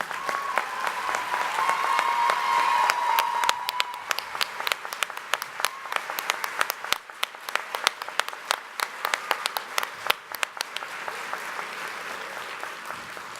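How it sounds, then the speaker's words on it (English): Faculty members at a spring college commencement ceremony receive sustained applause from a large audience, dense and steady for several seconds before thinning into scattered claps that gradually taper off. "I would now like to ask all of our faculty members to please rise for recognition and applause"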